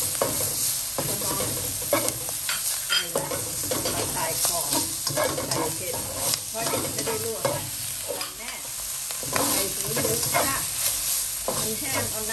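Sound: stir-frying pork ears with garlic and chili

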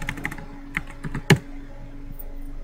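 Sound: typing a folder name on a computer keyboard

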